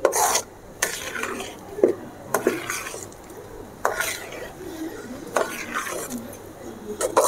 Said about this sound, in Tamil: கை விடாமல் கிண்டுறதுல தான் அந்த அல்வாவோட பக்குவமே இருக்குது